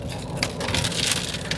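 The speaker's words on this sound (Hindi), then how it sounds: "बारिश भी आ गई, और ठीक ठाक बारिश हो रही है।" Steady rain falling on a car driving along the Delhi Mumbai Expressway, a dense continuous patter on the vehicle that stays loud and even throughout, with no talking.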